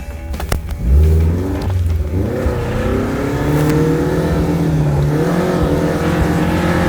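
A cheap off-road car's engine revs loudly and steadily as it drives onto rough terrain and swings through a U-turn, pitch rising and falling with the throttle, close and dominant.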